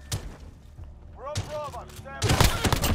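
Gunfire in the video game Call of Duty: Modern Warfare, with a few sharp single shots and then a dense rapid burst at the end, plus a warbling electronic whine in the middle.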